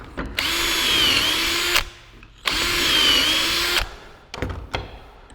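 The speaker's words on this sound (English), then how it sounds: "once you get a couple drilled out, it's not a bad idea to grab some dowels and put them in the holes" A power drill bores dowel holes in wood for a nightstand web frame in two loud, steady whining bursts of about one and a half seconds each, close up, followed by a few short clicks and knocks.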